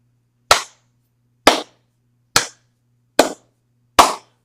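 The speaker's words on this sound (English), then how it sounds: "I have to insert slow clap here." Slow clap sound effect: five single, crisp hand claps spaced about a second apart, each standing alone against silence with a short tail.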